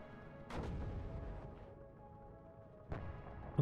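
Distant skirmish in a WARNO real-time strategy game, two or three muffled booms of artillery and gunfire over a faint low rumble, sparse and quiet.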